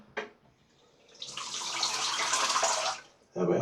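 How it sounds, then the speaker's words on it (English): Tap water runs into a sink for a shave with a straight razor, starting with a brief splash, swelling into a steady broad rush, then stopping before another burst of running water. "Just put some water in the sink and dip the tips of the brush in"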